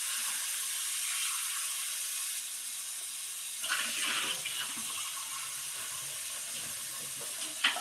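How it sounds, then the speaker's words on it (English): Hot water runs from a tap to rinse out a chocolate machine, a steady hissing stream nearby that splashes and changes tone midway as it hits the machine, with no talking. "when you are cleaning this out, make sure you use hot water"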